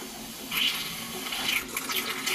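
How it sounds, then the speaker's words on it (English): Air and leftover water flush out of a water heater drain through the pipes, making a steady, loud hissing rush with gurgling surges. "Mostly air is just coming out now. That's what's getting flushed out through the pipes."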